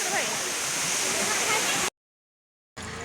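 The Bada Ghaghra waterfall roars as a loud, dense, steady rush of falling water, close by, cut off by a brief silence before the rush resumes; a voice speaks over it.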